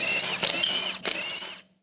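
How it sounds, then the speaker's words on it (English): An electric impact wrench with a 21mm deep socket spins lug nuts off a 2014 Ford F-150 wheel, giving a steady whirring, ratcheting rattle with two sharper bursts, then stopping. "Using the 21mm deep socket with the electric impact wrench,"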